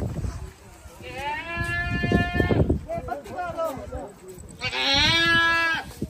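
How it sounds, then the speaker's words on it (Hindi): A male goat bleats loudly and close by twice in a village, long wavering cries, with people talking between and under the calls. "ले वो वहीं पे चल रहा था बकरा ना।"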